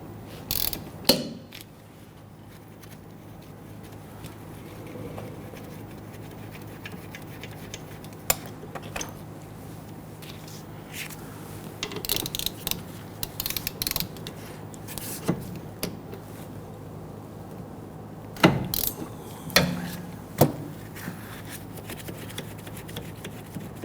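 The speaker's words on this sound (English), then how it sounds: "I'm going to go ahead and use our 14mm socket with our ratchet to go ahead, loosen and remove these." A hand ratchet with a 14mm socket works loose the rear brake caliper bolts on a 2011-2015 Kia Sorento, giving close, bursty clicking runs with pauses and a few sharper metallic knocks, no talk.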